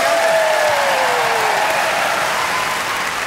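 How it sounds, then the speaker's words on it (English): A television comedy studio audience applauds loudly, a dense continuous wash of clapping that fills the whole moment, with a brief tonal whistle or cheer sliding down early on. "Give a big round of applause for all of them."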